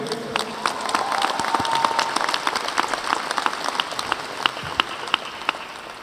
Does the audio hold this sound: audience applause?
yes